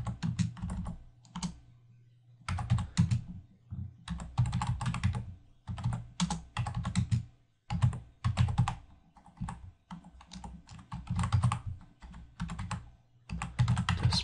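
Commands being typed on a computer keyboard while setting up a Django app, steady close clacking of keys in quick bursts with short pauses, loud and alone without talk.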